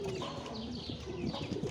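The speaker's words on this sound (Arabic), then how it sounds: "ادم يا ادم خد بالك على العصافير هذول" Farm birds in a cage set out in the sun give soft, low cooing calls close by, overlapping in a steady murmur with faint chirps mixed in.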